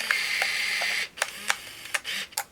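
An Olympus Infinity Accura Zoom XB 70 35mm film camera whirs as its motor advances film, a steady buzz followed by several short sharp clicks and whirs, close and quiet, no voices.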